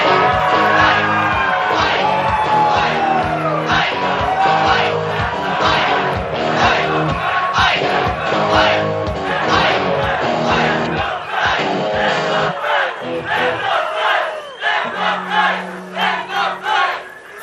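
An election night crowd celebrates a newly elected senator with loud, rhythmic chanting and shouting that pulses in steady bursts, then thins into scattered yells and cheers toward the end.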